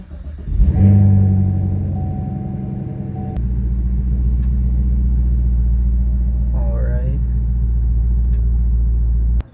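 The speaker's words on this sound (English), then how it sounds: "let's go ahead and get this car pulled outside before it gets dark" A 2021 Chevrolet Camaro SS 1LE engine rumbles steadily at close range, starting up and idling low as the car pulls away outdoors, with a brief voice partway through.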